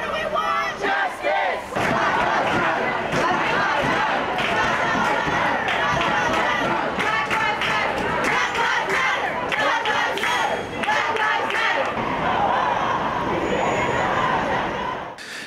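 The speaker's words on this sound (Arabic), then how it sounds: "وردد المشاركون هتافات تطالب بالعدالة" A street protest crowd in an American city chants slogans demanding justice against police racism, loud rhythmic massed voices shouting over crowd noise for a sustained stretch.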